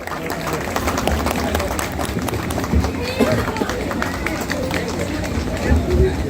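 Applause breaks out from a crowd at a Delhi community gathering honouring an award-winning student, steady clapping with murmuring voices throughout.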